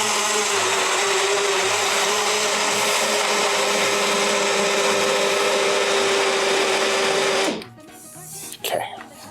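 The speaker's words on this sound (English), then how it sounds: "And then we blend it without ice for some reason." A blender whirs loudly and steadily while blending watermelon chunks with seeds and no ice, then cuts off abruptly near the end, followed by a few faint clatters and a brief voice.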